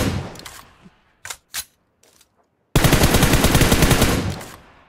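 Video game gunfire: a few separate sharp shots, then a long rapid burst of loud, close automatic fire that ends abruptly.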